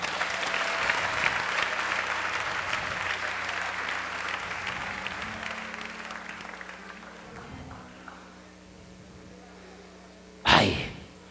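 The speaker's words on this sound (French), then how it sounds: "Acclamez le Seigneur." A church congregation applauds and cheers, steady dense clapping that gradually fades out, followed by a single loud thump near the end.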